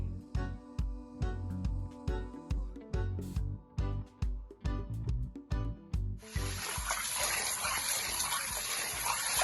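Peas being washed in water for Jamaican rice and peas: sloshing, rhythmic splashes and knocks for several seconds, then a steady loud gush of running tap water fills the rest, close and alone.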